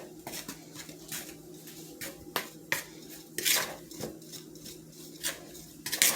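Sugar and raisins being mixed in a bowl for cinnamon raisin biscuits, with repeated light clinks and scrapes of a utensil against the bowl in an irregular rhythm, close and fairly quiet, no talking.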